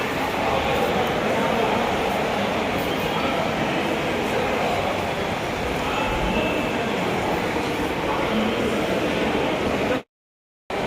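A railway station during a flood, with steady train and rail rumble filling the scene alongside a constant wash of noise and some voices, then a brief drop to silence near the end.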